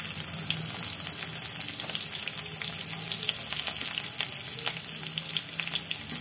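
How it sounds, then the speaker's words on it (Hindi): Onions frying in hot oil in a pan for puliyogare, a steady dense sizzle with faint crackles and occasional stirring, close and continuous with no talking. "पियाज पकईदबा।"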